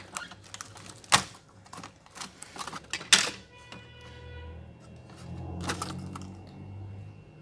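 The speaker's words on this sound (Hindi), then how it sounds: "सबसे पहले हम इसका कीबोर्ड निकालेंगे" Keyboard being pried out of a Dell Inspiron N5110 laptop: a run of sharp plastic clicks and taps up close, then a softer rustling scrape.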